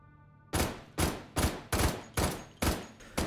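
Machine pistol firing in the VR shooter Hot Dogs, Horseshoes and Hand Grenades: seven sharp, loud shots in an even rhythm roughly half a second apart, each with a short decaying tail, and no voices.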